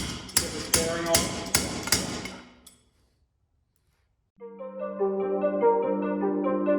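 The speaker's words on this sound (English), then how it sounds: "with our crescent wrench again, just apply a little gentle force down here to get this bearing on" Crescent wrench tapping a wheel bearing into place on a Mototec Mud Monster 98cc go kart, six sharp metallic strikes in a steady rhythm, close and loud, then silence followed by a different tonal sound.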